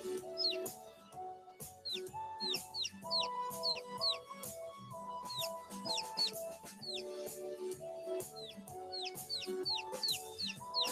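Chickens and young chicks calling, with repeated short clucks and high peeps scattered evenly throughout over a steady tonal background, moderately close.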